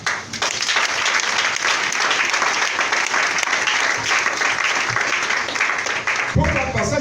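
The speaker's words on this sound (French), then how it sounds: "acclame-le" A church congregation applauds loudly and steadily, dense clapping filling the room for several seconds before tapering off near the end, with a voice coming in over it.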